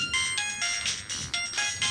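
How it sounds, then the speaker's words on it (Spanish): An incoming call rings on a mobile phone connected over Bluetooth to a Solidyne UNIDEX UX18 IP broadcast console, a repeating electronic ringtone in regular bursts with no talk over it. "ahí estoy recibiendo el llamado a través de mi teléfono"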